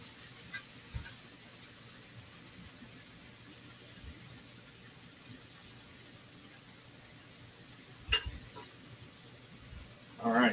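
Onions fry on a carbon steel griddle for steak fajitas, giving a faint, continuous sizzle with a few sharp scrapes and clatters near the end.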